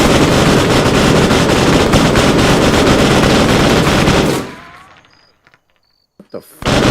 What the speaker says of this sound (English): It's an MG3 shooting through the machine gun port.